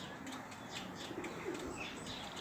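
Racing pigeons cooing softly in their loft, low murmuring coos with occasional wing flutters and faint chirps, steady and close over a constant background hum.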